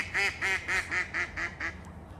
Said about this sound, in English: listen to the duck.